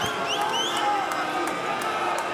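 Dense arena crowd noise at a Bellator 67 MMA fight, a steady, loud roar with scattered whoops and cheers running throughout, with a commentator's voice over it.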